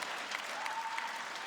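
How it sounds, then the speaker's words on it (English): A large esports arena crowd at a CS:GO quarterfinal between Liquid and ENCE on Mirage cheers and applauds in a dense, steady roar, heard from a distance. "And now they're going to get the crowd building up behind them."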